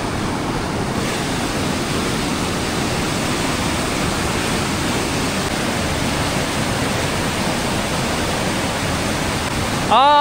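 The Seti Khola river in Tanahu, Nepal, rushes in a loud, steady, unbroken roar of water heard up close.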